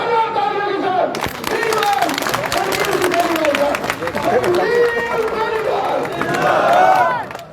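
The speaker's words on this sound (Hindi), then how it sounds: "भारतीय जनता पार्टी के अधिकृत उम्मीदवार जोरदार तालियों के साथ" A crowd at a village election rally claps and cheers to welcome a BJP candidate. Loud, close clapping and shouts mix with a voice speaking over a loudspeaker.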